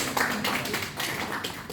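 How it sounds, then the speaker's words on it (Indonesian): An audience applauds at a product presentation in Pontianak, a brief, dense burst of many hands clapping at a steady level. "Tepuk tangan Bapak Ibu."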